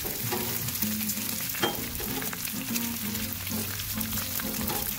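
Bacon and sausages fry on a Blackstone griddle, a constant close sizzle with spatula scrapes as the sausages are rolled around, and no talking.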